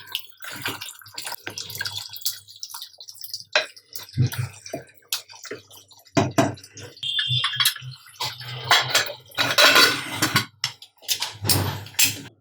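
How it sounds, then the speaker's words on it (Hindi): A spoon stirs wet mutton laal maas in a cooking pot, making irregular sloshing, scraping and clinking bursts that come and go close up, with brief pauses between strokes. "इसे अच्छे से मिक्स कर देते हैं।"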